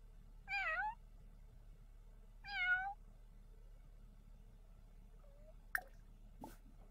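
A cat in The Sims 4 meows twice in clear, separate calls, followed by a couple of faint clicks over a quiet hum.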